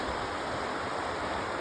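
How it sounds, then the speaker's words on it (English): A big mountain creek beside the Avalanche Trail in Glacier National Park, producing a steady, dense rushing wash of flowing water, close and unbroken. "big creek. River? I don't know what you want to call that."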